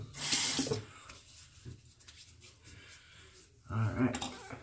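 Tap water runs into a sink for rinsing after a wet shave, a close splashing burst at the start and another at the end with quieter moments between.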